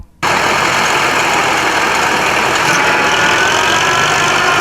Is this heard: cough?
no